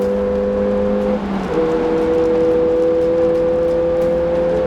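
Race car driven hard on a track during a brake test, a loud steady engine drone from inside the cabin with a brief dip and a pitch shift as it changes gear or lifts, no talk.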